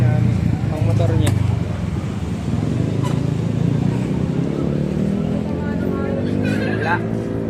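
A motorcycle engine idles and runs steadily close by, a continuous low drone with people talking over it throughout.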